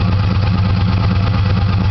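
A 318 engine idles at the exhaust pipe, giving a steady, close, low rumble that continues without a break.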